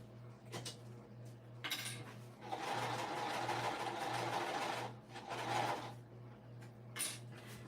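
A sewing machine stitches a crossbody bag in steady runs of close, moderately loud whirring, broken by brief pauses and small clicks as the work is shifted.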